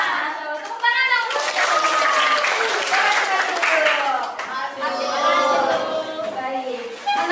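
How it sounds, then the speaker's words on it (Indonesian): A class of children in an Indonesian school lesson clap together, a busy, continuous patter of many small hands mixed with excited young voices chattering throughout, pausing briefly before picking up again. "Tepuk tangan dong."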